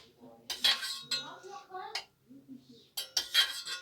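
A tablespoon clinks and scrapes against a baking tray while coconut is spooned over gazete baklava, giving a few bright, close metallic taps with brief murmurs between them.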